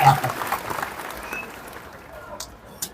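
Audience applause at a live Kannada comedy show: a loud burst of crowd clapping right at the start that quickly thins and fades into a quieter room murmur.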